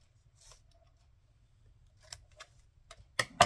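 Scissors snip paper for a collage in a few brief, crisp cuts that cluster near the end after mostly quiet moments, with light clicks and rustles.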